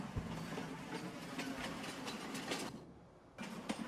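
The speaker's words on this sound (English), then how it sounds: "we let the train go." Train departing in a farming video game: rumbling rail noise with rhythmic clickety-clack clatter and an engine drone, moderately loud and steady, briefly dropping out before resuming.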